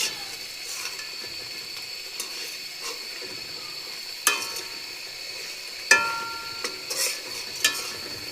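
A fried fish head being stirred with spice paste in a pan, a soft steady sizzle broken by a few sharp scraping knocks of the spatula against the pan.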